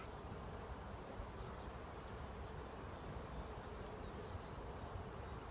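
A dense, continuous buzz of many honeybees close by at an open hive during a colony check, steady and fairly quiet, with no voices.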